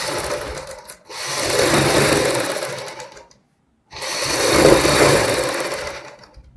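Sewing machine stitching a double seam on a kurti neckline, two loud continuous runs of rapid mechanical whirring separated by a brief pause in silence.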